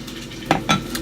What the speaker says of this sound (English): All right, you hear that sizzle?